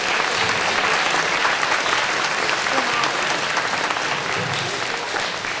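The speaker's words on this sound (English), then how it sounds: "Let's give our guests a round of applause" Loud, sustained applause from a school assembly audience of children honoring veteran guests at a Veterans Day event, dense clapping filling the whole stretch without pause.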